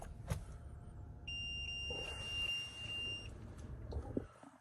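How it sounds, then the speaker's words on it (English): Several electronic beeps from a dash camera sound at a steady pitch inside a quiet 2023 Toyota Highlander XLE Hybrid cabin, with faint rustling and a soft background hum. "Couple beeps there from the dash camera."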